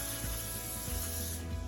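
Olive oil hisses from a spray can onto a pork loin in a steady, close, continuous spray with slight sputtering pulses, no voices present.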